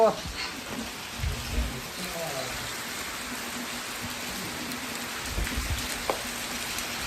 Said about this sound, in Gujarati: અત્યારે વરસાદ વધી ગયો